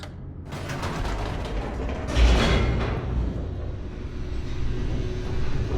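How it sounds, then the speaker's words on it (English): Elevator machinery descending in the video game Stanley Parable Ultra Deluxe, a loud continuous mechanical rumble with creaking, ratcheting gear noise and a sliding surge in the middle, heard alone without talk. "The elevator raced downward, plummeting towards an unknown fate."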